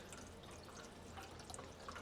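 Water runs from a faucet into a drain during a plumbing leak check in a rental house, a quiet, steady hiss that continues throughout with no voices.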